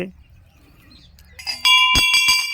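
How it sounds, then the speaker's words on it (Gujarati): A jhalar, a metal temple bell-gong at a village samadhi shrine, struck several times: bright ringing strikes with a sustained metallic hum late in the clip, close and loud, after a quiet start with faint background sound. "આ ઝાલર છે વગાડવાની."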